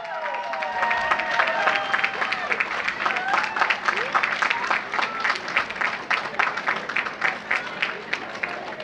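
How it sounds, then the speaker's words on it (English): An audience claps at a Buddhist center's grand opening ceremony, with crisp, individual claps rising and thinning over several seconds while cheers and voices mingle in the background. "Keep the applause going."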